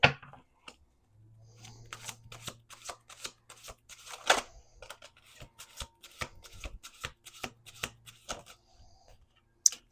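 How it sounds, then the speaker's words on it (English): Playing cards riffle-shuffled repeatedly at a table during a card reading, close and crisp bursts of flapping and snapping with brief pauses between, a faint low hum underneath. "Let's do two more shuffles."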